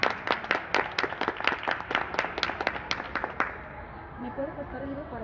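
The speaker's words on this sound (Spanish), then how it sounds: "Muchísimas gracias y un aplauso" A small audience at a book presentation claps in sharp, distinct, close-sounding hand claps for about three seconds, then the clapping stops and a voice speaks quietly.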